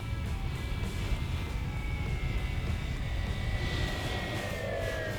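The electric motor and propeller of an Arrows Husky Ultimate 6s, a 2-metre RC airplane, whine as the throttle rises, the pitch climbing steadily over a constant outdoor rumble.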